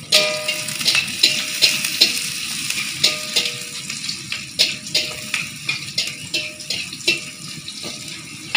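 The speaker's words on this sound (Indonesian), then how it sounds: "Tumis dulu sampai harum." Spicy beans and small chilies stir-fry in a hot pan, giving a steady loud sizzle with repeated scraping and clinking strokes of a spatula, close up, with no voices.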